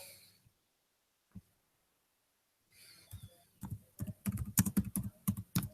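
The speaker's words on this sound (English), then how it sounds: "Sorry about my typing here." Computer keyboard typing in quick irregular bursts, moderately close, after a near-silent stretch, with a few isolated taps early on and a dense flurry of keystrokes toward the end.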